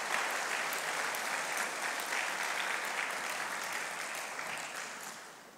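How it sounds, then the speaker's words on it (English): A church congregation gives a clap offering during a worship service, a steady wash of many hands clapping together that holds evenly and then tapers off slightly toward the end. "Let's give the Lord God the best clap offering"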